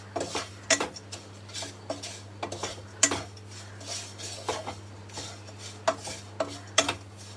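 Food being stirred in a pan, with a spoon scraping and clinking against the metal in irregular bursts and several sharper taps, close and alone over a steady background hum.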